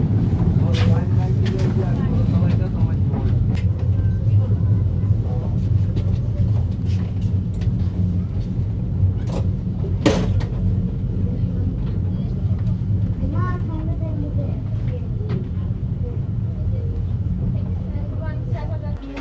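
The Chitra Express rolls along after crossing the Jamuna rail bridge, a steady low rumble of wheels and carriage running continuously throughout, with someone talking over the train noise and a brief louder clank near the middle.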